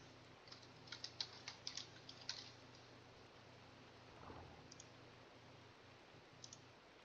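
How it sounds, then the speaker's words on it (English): Quiet keyboard typing: a short run of soft, rapid key clicks near the start, then a few scattered taps against a low background hum. "Oh, that's right, I got to type it up here."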